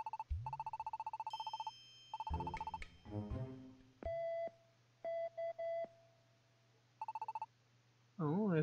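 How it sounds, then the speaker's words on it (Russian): Phone ringing in the Pokemon Super Mystery Dungeon video game: a repeating electronic chiptune ring in short bursts with pauses, alongside game music tones and a brief voice-like blip at the end. "Эспер нам звонит."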